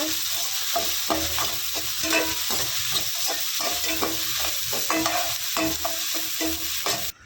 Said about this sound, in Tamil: இப்போது வெங்காயம் கொஞ்சம் நல்லா வதங்கிடுச்சு